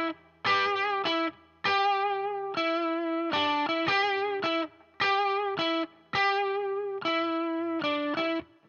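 Electric guitar plays a blues riff, with a distorted, effects-laden tone. Repeated riff phrases cut off by short gaps recur steadily at loud volume, with no voices.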